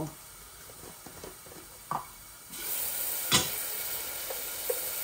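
Onions browning in a pan on a home stove for a country-chicken and green-papaya curry, a soft steady sizzle that swells louder midway, with light stirring clinks and scrapes.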